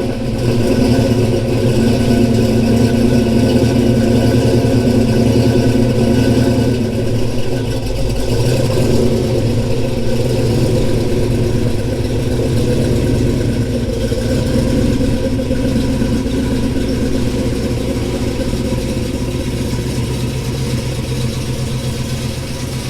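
A Ford Mustang Foxbody 5.0 V8 engine idles with a steady low rumble throughout, a continuous mid-pitched drone with slight fluctuations and faint clatter, no voices.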